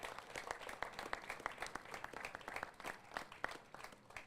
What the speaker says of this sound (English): would you just give all of these artists a warm Houston round of applause?